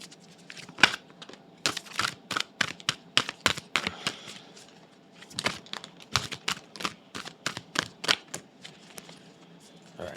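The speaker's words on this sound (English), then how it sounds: "All right, 2 more shuffles." A deck of tarot cards being shuffled up close, with repeated bursts of sharp riffling flutters separated by short pauses.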